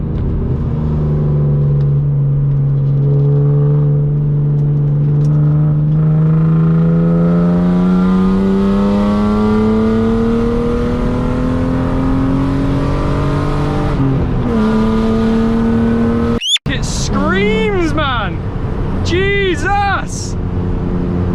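Loud BMW E36 six-cylinder petrol engine revving hard from inside the car, pitch climbing steadily through a long pull, then a sharp gearshift break and quick rising revs with pops, voices talking over the roar.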